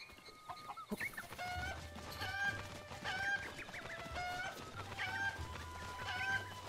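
Chickens cluck repeatedly in the video game The Legend of Zelda: Breath of the Wild, several short clucks spaced a second or so apart over a low steady game ambience.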